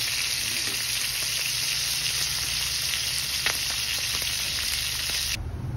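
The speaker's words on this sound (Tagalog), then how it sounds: "piprito natin ng konti yan hanggang mag golden brown yan" Puti fish frying in hot oil toward golden brown, a steady dense sizzle running without pause, close and loud, then changing abruptly near the end.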